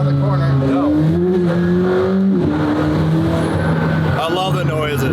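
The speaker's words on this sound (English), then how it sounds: "McLaren is such a unique sound." A McLaren hypercar engine drones loud and close from inside the cabin, its pitch rising and falling through gear changes, with people talking over it.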